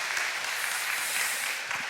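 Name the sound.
congregation applause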